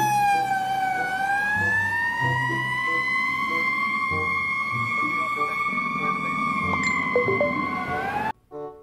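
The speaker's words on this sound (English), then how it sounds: "fire service car." A wailing fire engine siren rises and holds a steady, loud tone for several seconds, with rumbling traffic beneath and a brief cutoff at the end.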